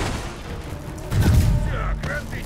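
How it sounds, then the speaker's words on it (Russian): A cannon firing in the Spider-Man PS4 video game, a muffled heavy boom about midway, layered with game sound effects and someone speaking Russian over it. "Я так понимаю, это пушка."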